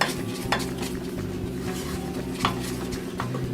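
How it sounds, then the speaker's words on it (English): Muffin batter of flour and almond meal being mixed in a bowl, a soft continuous stirring with a few light clinks of utensil against bowl, close and steady under a low background hum. "Just mix this through."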